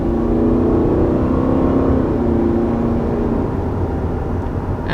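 A 2021 Subaru Forester's 2.5-liter naturally aspirated four-cylinder engine pulling under acceleration, a steady loud droning hum with rising tonal whine heard from inside, with no one speaking.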